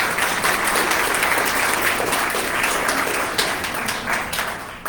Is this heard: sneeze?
no